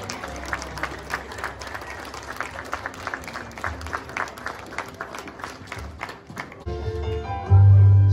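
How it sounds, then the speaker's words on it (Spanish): Wedding guests clap as the groom enters, a scattered, uneven patter of many hands with a few louder individual claps. It cuts off into music near the end. "fuerte el aplauso"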